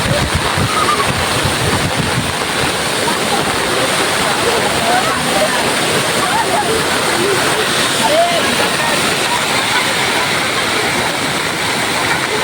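Rainwater flowing down in heavy rain at a village, a loud, dense, continuous rushing wash of water and downpour filling the scene, with wind buffeting the microphone.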